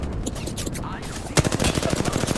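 Rapid automatic gunfire in an Apex Legends firefight, dense bursts of shots starting midway and continuing loudly to the end over ongoing game sounds, with a voice speaking.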